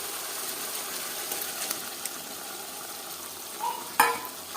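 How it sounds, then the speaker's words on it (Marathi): Dill and spinach greens frying in spiced masala in a kadhai, a soft, steady sizzle with light stirring and a sharper metallic clink near the end. "मस्त मिरचीमध्ये म्हणजे मसाल्यामध्ये व्यवस्थित परतून घ्यायची भाजी."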